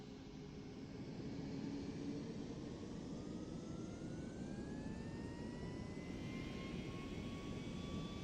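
Jet airliner engines in the Aerofly FS flight simulator spool up for takeoff, a steady, rising whine over a broad roar that holds for several seconds.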